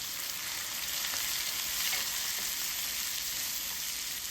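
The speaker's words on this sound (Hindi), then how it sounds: "उसके बाद मैंने 4 कटे हुए अनियन डाल के उनको हल्की आंच से गोल्डन ब्राउन कर लिया।" Chopped onions frying gently in mustard oil in a kadai over low heat, a steady, even sizzle and hiss close up, continuous and unbroken with no voices.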